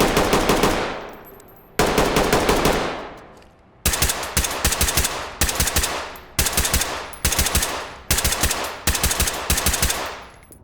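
Firearms in Ready or Not with the Gunfighter mod blast out two long automatic bursts, then several short rapid bursts with brief gaps. The shots are loud and close, with sharp echoing cracks.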